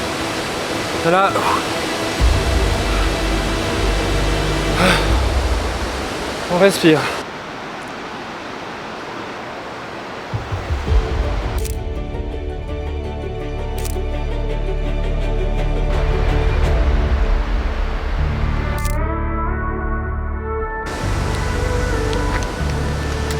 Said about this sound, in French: Il y a le bruit assourdissant de la cascade.